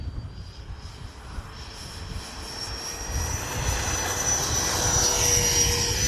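A Freewing A-6 Intruder RC jet flies in a gusty crosswind, its turbine whine steady and rising as it draws nearer, a loud, continuous rushing roar with no voices.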